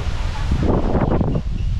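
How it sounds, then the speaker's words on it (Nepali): Strong wind gusts roar past coconut trees in the Philippines, a steady, close rushing buffet across the microphone. "यस्तो हावा चाहिँ होला"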